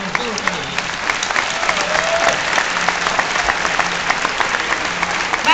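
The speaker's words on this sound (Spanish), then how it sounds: "a quien sí aplaudo." A crowd applauds steadily throughout the closing ceremony of the 2014 Mar del Plata Film Festival, dense clapping with a few louder sharp claps standing out.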